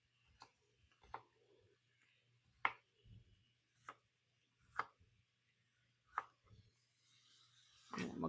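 A knife chops potatoes for soup on a cutting board, about eight crisp, sharp taps spaced irregularly roughly a second apart, close and fairly quiet, ending with a rustle of pieces being gathered.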